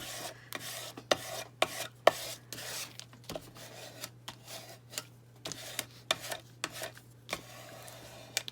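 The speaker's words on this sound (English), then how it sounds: "I wanted to give it a good rub because this is kind of wrinkled and warped a bit." Paper being rubbed down onto a junk journal page with a tool, a series of soft scraping strokes and light taps repeating steadily and close by, with no talk.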